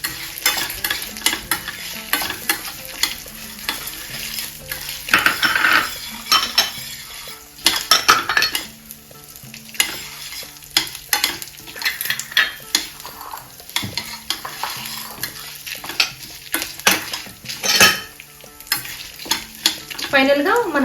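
Garlic cloves sizzle and fry in a pan while a utensil stirs and clinks against it throughout, part of making a spicy bitter gourd fry with curry leaves.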